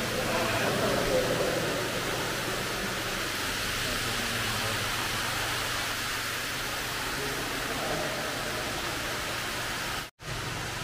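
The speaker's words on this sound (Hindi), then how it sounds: "और ऊपर से पानी गिर रहा है, वो ऊपर से बिल्कुल मूर्ति के ऊपर गिर रहा है।" Water falls steadily from above onto a statue at the Batu Caves Hindu temple near Kuala Lumpur, a constant broad rushing splash heard close, with a brief dropout near the end.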